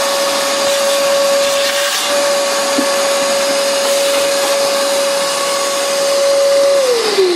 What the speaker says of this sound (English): dusting using a shop vac